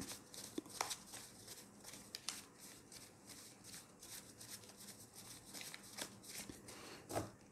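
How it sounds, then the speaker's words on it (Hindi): A deck of playing cards is shuffled repeatedly in close, quiet riffles and flicks, with brief sharp card snaps recurring throughout and no talk. "एक बार शफल और कर लेते हैं"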